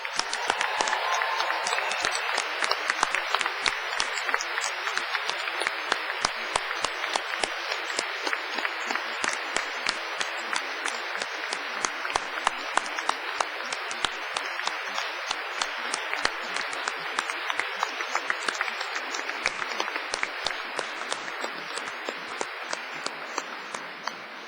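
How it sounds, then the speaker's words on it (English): A large graduation audience in a hall applauds in a sustained, dense round of clapping that holds steady throughout. "giving them a cheer and an enthusiastic round of applause."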